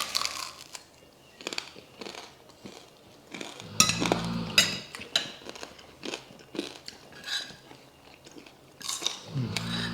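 Close crunching bites and chewing on tam sua, a Thai papaya salad with fermented noodles, and crispy pork, with soft clinks of cutlery and dishes between mouthfuls.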